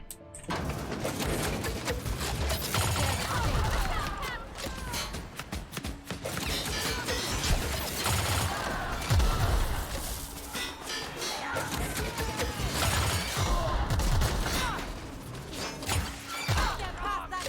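A big heat-seeking gun fires in The Outer Worlds, its shots and impacts blending into a dense, loud, unbroken wash of blasts, crashes and debris that runs the whole length with no quiet gaps.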